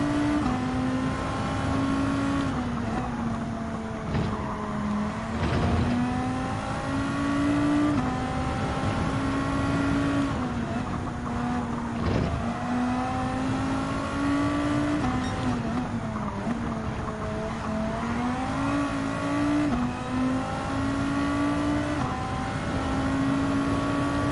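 A race car in Gran Turismo 7 during a Nations Cup online race, its engine held at a steady high drone with small pitch dips and rises as it shifts and turns. The sound is loud and continuous throughout.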